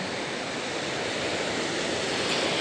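Steady wash of sea waves against a rocky Caba beach, a continuous broadband surf roar with no distinct breaks, fairly close and moderately loud, with no voices.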